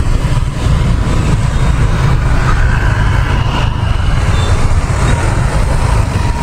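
Heavy weekend road traffic near Tan Son Nhat airport makes a loud, steady rumble of cars, trucks and buses, dense and continuous with no break.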